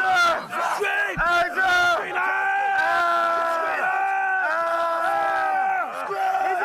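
Marine recruits at boot camp scream together on a drill instructor's command, producing a loud, sustained chorus of yelling voices in repeated bursts.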